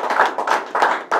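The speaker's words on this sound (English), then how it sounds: "How about another round of applause for Andreas" Hands clap in a short round of applause at a press event for the Black Bears hockey team's new lease agreement with Broome County, heard as four close, loud bursts.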